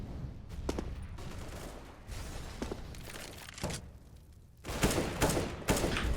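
Gunfire in the Counter-Strike video game comes as scattered bursts of sharp shots, some quick spammed volleys, with the loudest cluster near the end, heard alone without talk.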